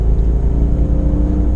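A Bentley Mulsanne engine roars loudly and steadily from close by, a deep, continuous rumble under revving throttle with no voices over it.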